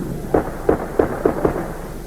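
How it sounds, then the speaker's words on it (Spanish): Five dull booming firearm shots in an irregular sequence, distant and muffled, over a steady rumble of background noise, amid tear gas grenades at a protest. "Se escuchan también algunos disparos de armas de fuego."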